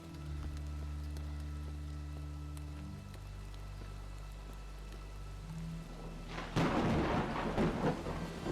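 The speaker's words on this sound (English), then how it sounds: "Thunder and lightning too." Thunder rolls through steady rain outdoors: a continuous low rumble and hiss of rainfall, then a louder, crackling thunder burst near the end, moderately distant, with a faint hum underneath and no talk.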